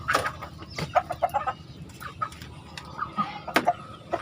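A 10-month-old broodcock rooster, a large fighting-bred bird in a backyard farm, clucks in short, irregular bursts, near and fairly loud, with brief gaps between calls and no talking.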